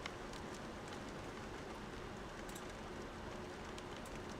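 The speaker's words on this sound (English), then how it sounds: "so maybe you guys can hear the rain as well" Steady rain drumming on the cabin roof of a sailboat, picked up by a roof-mounted microphone as a dense, unbroken hiss with scattered sharper drop taps, with no voices.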